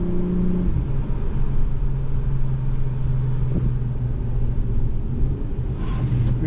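A 2023 Acura TLX Type S drives a twisty road, its engine a steady, loud drone that fills the cabin with a low rumble and shifts slightly near the end.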